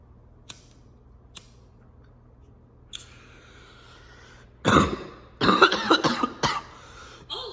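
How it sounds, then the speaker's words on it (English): Several harsh coughs burst out close by after a few quiet ticks and clicks, coming in a ragged cluster before trailing off. "Coughing's good. Coughing's good."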